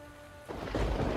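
Rain and rumbling thunder outside a window in the Chronicles of Mystery game set in Paris, starting as a quiet hiss then swelling into a loud, low rolling crash.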